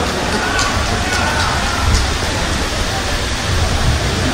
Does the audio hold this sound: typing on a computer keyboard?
no